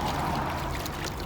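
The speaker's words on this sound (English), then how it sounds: "I'm gonna dip it in my bucket of water" A Brillo pad dunked into a bucket of water, giving a brief close watery slosh and pour-like splash with no voices.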